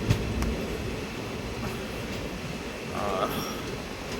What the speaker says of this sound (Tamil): எல்லா ட்ரெயினுக்கும் வழி விட்டுருக்கிற இடத்துல இந்த ட்ரெயின் போயிட்டுருக்கு